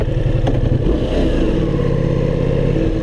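A Ducati Multistrada V4S motorcycle, recently unable to start, idles close by with a throbbing, uneven engine note that settles into a steady rumble after a brief clatter.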